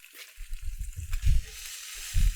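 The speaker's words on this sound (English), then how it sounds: "You really just wanna soften these shallots. Cook them through, cook out the raw onion flavor, sweat them down" Shallots and onions sweating in a pan give a soft, low sizzle with gentle stirring scrapes. It is quiet and close, with a few louder bursts, and no one speaks.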